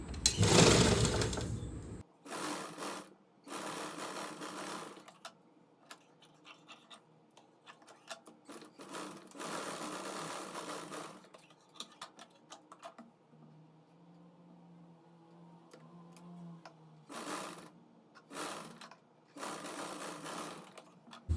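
Bursts of a sewing machine stitching a button placket onto a blouse, rapid clattering runs separated by quiet pauses, with some softer handling noises between the stitching.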